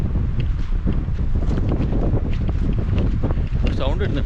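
Strong wind gusts across Poondi dam, roaring and buffeting the microphone in a loud, steady rush with no letup, near and overwhelming any other sound.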